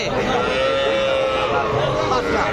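A dense, busy cattle market din at Dhap Haat in Bogura, with overlapping voices and a long drawn-out low moo from calves running beneath it.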